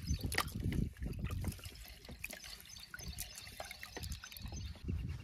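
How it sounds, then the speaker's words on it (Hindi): Rice being washed by hand in water at a rainy mountain campsite: irregular sloshing, swishing and dripping close up, in uneven bursts, with no talk. "पहले जल्दी से हम चावल धो लेते हैं अच्छे से।"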